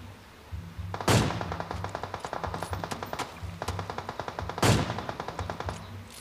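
Rapid automatic gunfire from a PUBG Mobile match plays as steady bursts of quick shots, with two louder, sharper blasts standing out, moderately loud and with no talking.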